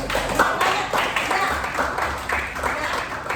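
A class clapping hands together in rhythm in a classroom lesson, a series of regular, fairly close bursts of group claps repeating in a steady beat.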